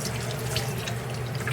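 Room-temperature water mixed with vinegar runs steadily into a container for soaking tie-dyed fabric, a continuous close splashing pour.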